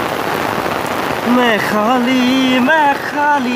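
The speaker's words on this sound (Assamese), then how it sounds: "এনেকৈ লাগাতাৰ পৰি আছে, লাগাতাৰ মানে লাগাতাৰে পৰি আছে বৰষুণ" Heavy, continuous rain pours down in a steady dense hiss that fills the whole stretch, while a person's voice sings and talks over the downpour.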